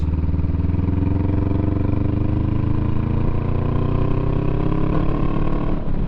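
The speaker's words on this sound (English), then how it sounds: "My rear tire bounced off a bump and kind of revved up a little" A motorcycle engine runs steadily, then revs up a little after the rear tire bounces off a bump on the road; a loud, close, continuous drone with a slight rise in pitch near the end and no talking.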